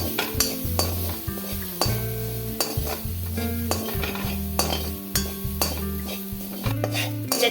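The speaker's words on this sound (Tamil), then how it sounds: "அதே கடாயில் நம்ம வறு நம்ம வந்து தேங்காய் துருவல் வச்சுருக்கோம்ல அதையும் நான் இதில் சேர்த்துடுறேன் சேர்த்துட்டு இதையும் நல்லா நம்ம வந்து வறுத்துக்குவோம்" Grated coconut dry-roasting in a kadai, stirred briskly with a ladle that scrapes and knocks against the metal in a steady, close, loud rhythm with light crackling beneath; no talk.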